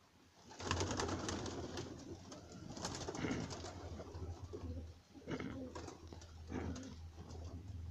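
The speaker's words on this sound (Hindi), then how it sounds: "जी महबूब भाई, आप लेके आए कबूतर" Pigeons cooing and fluttering nearby, with a steady low hum and some rustling throughout, at a pigeon-keeping show in Sialkot.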